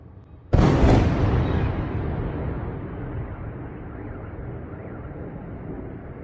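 A single loud, sudden explosion booms in Kyiv, Ukraine during a Russian drone and missile attack, then a long rumbling decay fades slowly into distant background noise.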